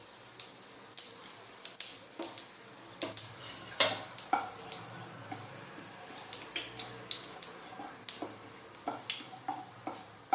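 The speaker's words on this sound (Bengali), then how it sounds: "তেলটা আমার গরম হয়ে গেছে, এর মধ্যে আমি গোটা গরম মশলাটা দিয়ে দেব, তার সাথে আমি এই গোটা জিরাটাও দিয়ে দেব" Whole garam masala and cumin sizzling and popping in hot oil, a steady frying hiss broken by many sharp crackles and spatters, close and fairly quiet with no talk.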